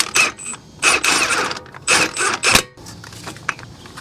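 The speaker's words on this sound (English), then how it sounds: "you can put one lug nut on, which will help hold this rotor somewhat centered" Lug nut threaded onto the wheel hub of a Ford Escape during a front brake rotor replacement, a few short metallic ratcheting and scraping bursts up close with pauses between them.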